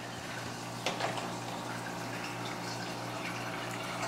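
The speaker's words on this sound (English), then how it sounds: "the water simply goes out through the other hose into the drain" A portable compact washing machine pumps water out through its drain hose, giving a faint, steady hum with a soft trickle and one brief clunk near the start.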